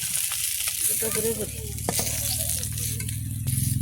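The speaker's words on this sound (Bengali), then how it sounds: "মাছগুলো এই ভাজা হয়ে গেছে" Fish fry in a pan, crackling and sizzling in hot oil with a constant hiss and some clinks from stirring. A person speaks briefly over the frying.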